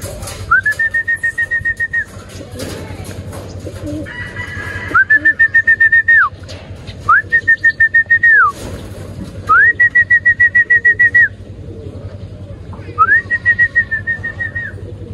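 Racing pigeons at a club training loft give repeated soft bird calls in five short, evenly spaced bursts over a low steady background hum, close and fairly clear, with no talking.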